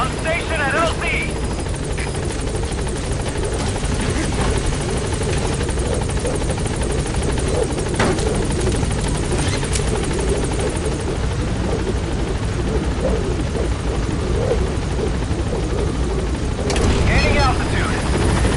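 Helicopter arriving at a landing zone in the Metal Gear Solid V video game: a loud, steady close rotor thrum and engine drone throughout, with radio voice chatter over it.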